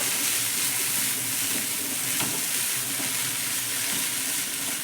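Chopped vegetables being turned over and mixed in a hot frying pan, a steady close sizzle with soft, irregular stirring scrapes throughout.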